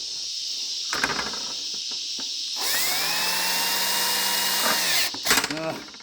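A power drill bores into a urethane boat skid, its bit biting and chewing into the material with a loud, steady whine that rises and shifts pitch over several seconds, preceded by short bursts and clatter.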